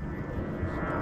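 An airplane flies overhead, its engine a steady low drone filling the short moment without change.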